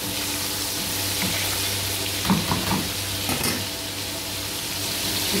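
Noodles and crispy chicken sizzle steadily in a hot pan as they are stirred, with a few brief scraping clatters partway through over a constant frying hiss; no one speaks.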